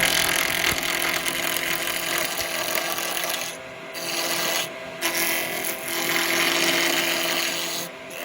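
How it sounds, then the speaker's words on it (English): A woodturning lathe chuck spins at high speed while carbide chisels turn Christmas cracker decorations, giving a steady loud whooshing air noise with rasping tool contact and a few brief drops in level. "Now that noise, that's the air on the chuck, you can hear that because of the speed it's going."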